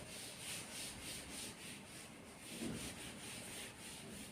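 Writing being rubbed off a board, a faint, steady rhythmic scrubbing in repeated back-and-forth strokes, with no talking.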